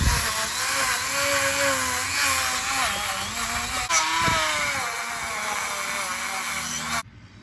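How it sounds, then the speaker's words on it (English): A Dremel rotary tool with a wire brush cleans the rear-end transmission housing surface of a Yanmar 1500D tractor. It makes a continuous high-pitched whine with a wavering pitch for about seven seconds, then cuts off abruptly. "So we're gonna clean it up just a little bit more with this Dremel here."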